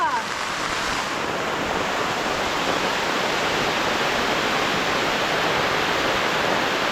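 Water pours steadily into a fish pond irrigation channel on a farm, a loud, continuous rushing wash that holds level and close throughout with no talk.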